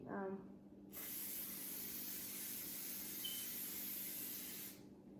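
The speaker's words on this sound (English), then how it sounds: "So I'm just gonna spray the sheet." A short burst of canola oil baking spray onto a baking sheet, a steady hiss lasting several seconds before cutting off, close by.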